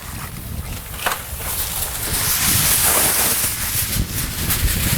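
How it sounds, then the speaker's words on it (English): Strong, gusty wind of about 20 miles an hour buffets the microphone outdoors at a barbecue cook-off, roaring in uneven surges that build toward the middle and stay loud and close, with no talk. "We're still fighting this 20-mile-an-hour wind."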